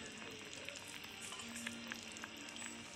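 Okra tamarind curry (kara kuzhambu) sweetened with country jaggery simmers in a pan, giving off a soft, steady sizzling bubble with faint pops. It is quiet and heard on its own.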